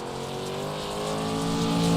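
Dirt late model race cars roar around a speedway, a loud sustained engine drone that swells steadily over two seconds as the cars pass near.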